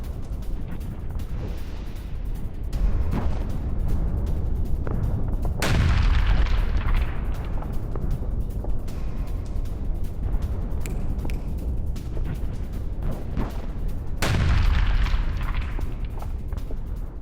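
Heavy booms of bombs and artillery fire in Donetsk under a continuous roar, with two big blasts standing out and a rumbling wash of distant detonations between them.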